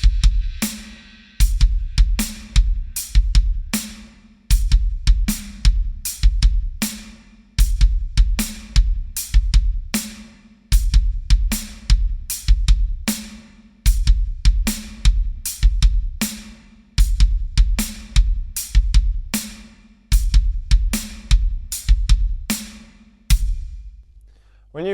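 A drum kit plays a steady quarter-note groove at a faster tempo, with kick, snare and crisp cymbal hits repeating in a tight, even rhythm for the whole stretch, loud and close, with no talking.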